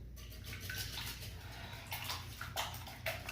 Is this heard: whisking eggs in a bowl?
yes